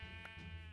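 A single short sheep bleat from Minecraft, a wavering nasal baa heard alone and fairly close.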